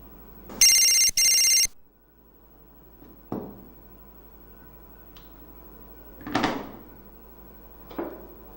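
An old-style telephone bell rings in two quick bursts early on, followed by a few scattered knocks and clunks like doors or drawers in a quiet room.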